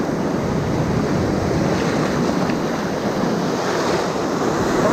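Open-sea waves around a boat on a bluefin trevally fishing trip, a constant dense roar of water and wind noise on the microphone, loud and unbroken, with no voices.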